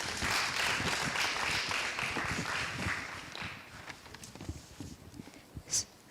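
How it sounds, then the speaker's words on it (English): An audience at the 12th Tanzania Health Summit claps for a speaker taking the stage, a dense burst of applause that thins out and fades after about four seconds, leaving a few scattered claps. "let's give him a round of applause"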